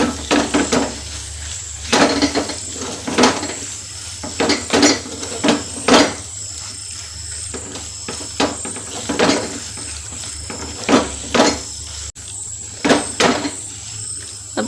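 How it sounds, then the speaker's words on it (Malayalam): Asafoetida powder being stirred into lemon pickle in a pan, heard as repeated sharp scraping and clinking strokes of a utensil against the metal pan in a steady rhythm, close and fairly loud, with no talking. "കായപ്പൊടി ആഡ് ചെയ്ത ശേഷം നല്ലപോലെ നമുക്ക് മിക്സ് ചെയ്ത് കൊടുക്കാം"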